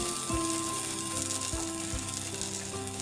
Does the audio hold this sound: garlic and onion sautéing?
yes